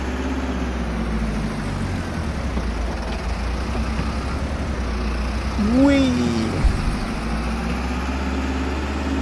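A small tractor engine idles in the Farming Simulator 22 game, a steady low rumble running throughout while someone speaks and lets out a brief playful exclamation over it.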